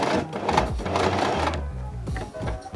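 A sewing machine stitches a repair patch onto the back of a pair of jeans, running in a steady rapid mechanical chatter close up, pausing briefly and then resuming.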